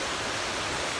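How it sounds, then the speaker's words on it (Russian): The Nikhaloy waterfalls in Chechnya rush in a loud, unbroken roar of falling water, heard close and alone. "и снова мы попали на Нихолоевские водопады"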